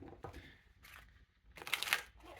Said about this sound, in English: sorry that it's taken me a little while to shuffle here